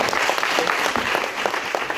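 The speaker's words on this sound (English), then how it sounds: "you can give him a round of applause" Classroom audience applauding a student in a financial literacy lesson, a steady dense patter of many hands clapping close by, filling the whole stretch without voices.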